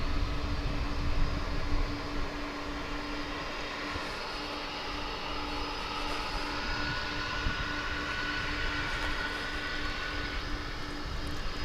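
A jet airliner at DFW International Airport roars steadily in the distance with a broad, sustained engine rumble and whine that continues throughout.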